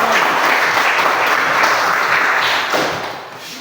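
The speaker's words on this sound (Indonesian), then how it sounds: "Berikan tepuk tangan bersama." Applause from a classroom of students, a dense steady wash of many hands clapping together that carries on for several seconds before thinning out and fading near the end.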